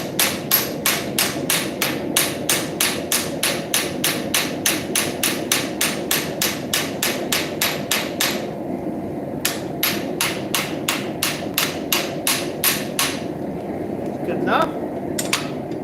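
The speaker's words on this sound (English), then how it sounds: "right now I'm just planishing this out" A hammer planishes a railroad spike with a fast, steady run of ringing metallic blows, close and loud, that pause briefly partway through and then resume before trailing off.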